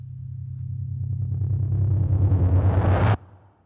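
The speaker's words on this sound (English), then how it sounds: "this sort of ripping effect that's transitioning into the next section" A ripping transition effect made from layered Storm Drums percussion builds from a low rumble into a swelling, tearing rush that cuts off abruptly, leaving a faint low tail.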